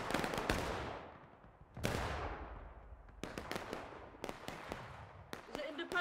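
Rifle gunfire in the video game War of Rights, a series of sharp cracks with echoing decay, first a few spaced shots then a denser scattered volley, with voices talking faintly beneath.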